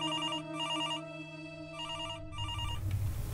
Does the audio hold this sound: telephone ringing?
yes